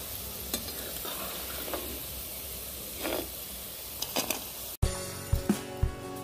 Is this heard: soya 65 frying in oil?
yes